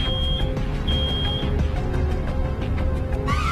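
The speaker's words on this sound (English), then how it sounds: "It's an alarm!" Alarm beeping in the video game Road 96, a thin high tone sounding in short bursts over a dense, loud mix of game noise and music.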